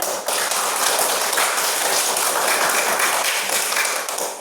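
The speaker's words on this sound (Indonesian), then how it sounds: "tepuk tangan" An audience claps together in a teacher-training class session, a dense, steady wash of applause that holds loud and even for several seconds before easing slightly at the end.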